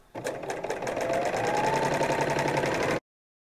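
A sewing machine runs steadily at close range for about three seconds, satin-stitching around the curved edge of a fabric tablecloth, with a fast even rhythmic whirr before stopping abruptly.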